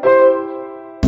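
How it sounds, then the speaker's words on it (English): A lone bassoon sustains a single reedy note that swells and then slowly fades, followed by a brief louder burst at the very end. "A bassoon sounds like this."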